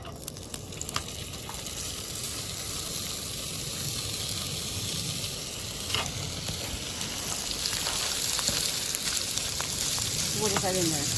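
Food sizzling steadily in a frying pan on a stove burner with a little olive oil, a constant close hiss with small pops and faint utensil clinks, no talking.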